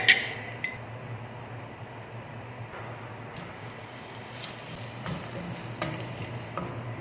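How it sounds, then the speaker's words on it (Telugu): Cumin-fenugreek powder, coriander powder and turmeric frying in a pan with garlic paste while being stirred, a steady soft sizzle with occasional scraping clicks, close and continuous, with no voices. "జీలకర్ర మెంతుల పౌడర్ వేస్తున్నాను కాస్త ధనియా పౌడర్ వేస్తున్నాను కాస్త పసుపు వేసుకున్నాను"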